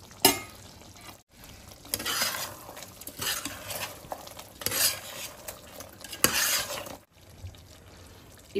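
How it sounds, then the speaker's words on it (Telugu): Gongura mutton curry is stirred in a pot, a spoon scraping and clinking against the metal in repeated bursts over a soft sizzle, with brief pauses between strokes. "మూత తీసి కలుపుకున్నాము"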